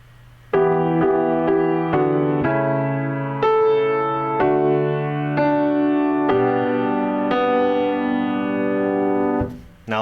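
Piano slowly playing the opening two measures of a song, sustained chords struck one at a time at an even, unhurried pace, close and clear with no talking.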